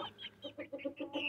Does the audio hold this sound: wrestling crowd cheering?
no